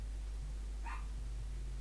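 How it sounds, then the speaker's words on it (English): A dog gives one short, faint bark in the background of a quiet indoor room with a steady low hum. "Don't mind, excuse the dogs."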